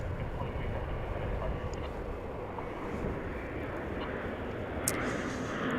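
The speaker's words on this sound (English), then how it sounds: "Here comes the Dreamliner after the C-175." A Boeing 787 Dreamliner airliner at DFW airport gives off a steady low roar and rumble, broad and unbroken, mixed with wind noise at the microphone.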